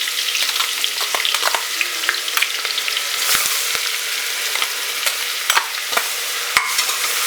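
Ground onion paste added to garlic frying in oil in a pan for a soya chunk biryani, making a continuous bright sizzle broken by sharp crackles and pops, with no talking.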